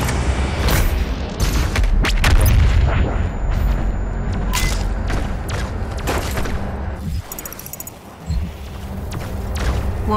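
The BFG 10,000 weapon in a video game fires as a loud, continuous barrage of deep booms and rumbling blasts, with a heavy low roar that barely lets up.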